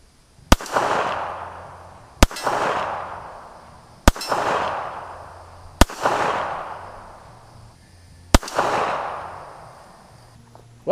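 Five sharp gunshots from a Cobra F.S. .380 ACP handgun fired at an outdoor range, each a loud crack followed by a decaying echo, spaced about two seconds apart with no talking.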